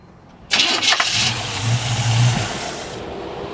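A 1947 Ford coupe's engine cranks and catches with a sudden loud burst, then settles into a steady, close rumbling idle with a few uneven revs before easing slightly.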